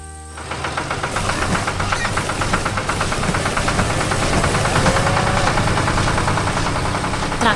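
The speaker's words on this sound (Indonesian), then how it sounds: "Traktor hijau itu sedang berjalan dengan cepat, menarik trailer yang penuh." A green tractor drives fast on a farm, pulling a full trailer, its engine a loud, steady rumble with rapid knocking pulses that carry on unbroken throughout.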